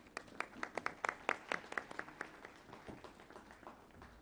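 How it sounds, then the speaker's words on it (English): Audience applause at a conference: a run of sharp, distinct claps from a modest crowd, brisk for about two seconds and then thinning into scattered, fading claps. "Please give her a round of applause."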